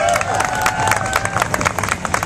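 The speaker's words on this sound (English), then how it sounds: "round of applause for Eric Walton." A large outdoor crowd at a vegan pride parade in New York City applauds and cheers loudly and continuously, with whoops and shouts rising over dense clapping throughout.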